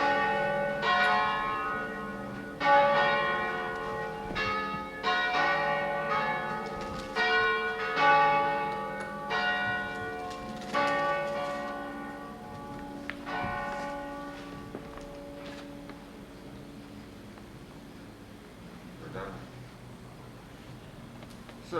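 Church bells ring in a steady, overlapping peal, loud and resonant for most of the stretch before fading toward the end, with a lone fainter stroke near the close.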